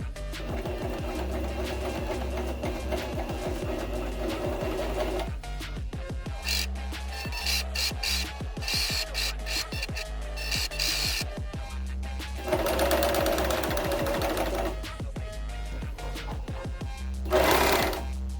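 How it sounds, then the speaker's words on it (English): A serger stitches a rolled hem through fabric and stabilizer, its rapid, steady mechanical chatter running close and loud, briefly pausing and restarting several times. "I'll be making sure to cut into the fabric and the stabilizer as I give it a rolled hem"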